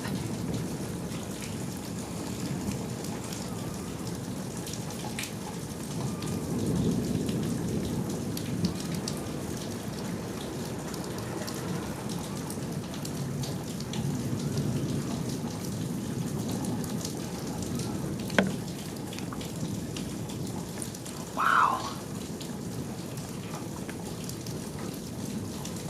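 Heavy rain pours steadily outdoors during a tornado-warned storm, a dense continuous hiss with faint thunder rumbling underneath and a couple of brief sharp cracks late on.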